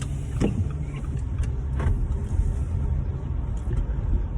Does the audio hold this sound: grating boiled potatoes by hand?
no